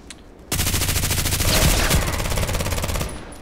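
A sustained, loud burst of automatic gunfire in the online shooter game Contract Wars, rapid even shots rattling for about two and a half seconds after a short quiet start.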